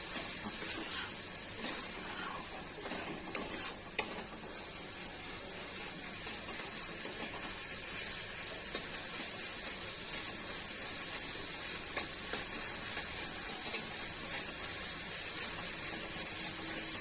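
An egg omelette fries slowly in a pan, giving a soft, continuous hiss that holds steady for the whole stretch, with a few faint clatters near the start.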